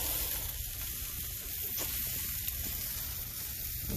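Flat iron steak sizzles steadily with butter on a grill running near 300 degrees, a continuous close, loud crackling hiss with no pauses throughout.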